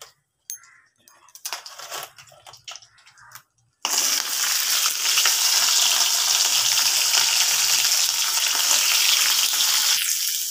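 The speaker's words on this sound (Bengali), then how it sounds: "এই যে কাঁকড়ার দাঁড়াগুলো যে ছিল আলাদা করে ভাজলাম" Crab claws fry in a pan after some scattered clatter and handling noises, then a loud, steady sizzle of hot oil starts abruptly and continues close up.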